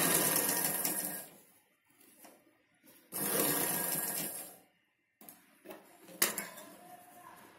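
A sewing machine stitches a Punjabi dress pant in three short bursts of rapid needle clatter, with quiet pauses and light handling clicks between runs.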